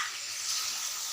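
Chicken leg pieces fry with masala and red chili in a pan, giving a soft, steady sizzle that is brief, continuous and alone with no talk.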